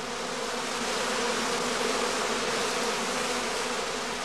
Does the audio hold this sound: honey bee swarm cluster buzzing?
yes